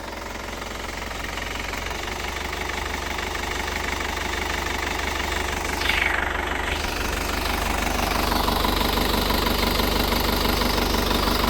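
An Isuzu Panther LS turbo diesel engine idling at working temperature, a steady low knocking diesel clatter with a constant rumble, close and even throughout, with no talking.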